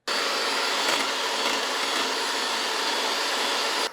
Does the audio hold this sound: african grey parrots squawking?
no